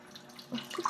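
Liquid drains from an opened can of tuna, a short soft trickle and splash lasting about a second, quiet and close with no one talking.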